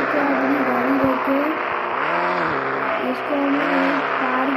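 Video game engine sound of a Toyota Fortuner SUV being driven, a steady droning engine tone that rises and falls as the throttle changes, loud and continuous with no pauses.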